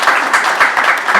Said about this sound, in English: can we give a very good round of applause for his effort to promote peace here in this country?